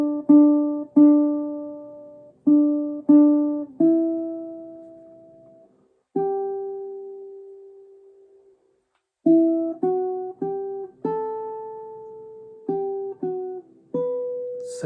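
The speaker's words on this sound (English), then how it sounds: "Picking with my thumb where the body of the ukulele meets the neck." A ukulele plays the melody of a jazz standard as a chord melody, thumb-picked where the body meets the neck: clear plucked notes and chords ringing out alone at a relaxed tempo with occasional pauses.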